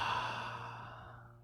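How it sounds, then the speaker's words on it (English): During a desert meditation, a single deep, audible exhale flows out close to the listener as a soft breathy sigh that fades gradually to quiet. "we'll take a deep inhale, then audibly exhale"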